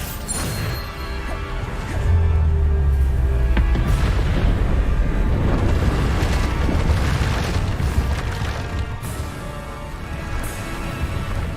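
Bombarda explosion spells blasting repeatedly in Hogwarts Legacy, with loud booming crashes and rumbling impacts amid a dense, continuous layer of in-game battle effects.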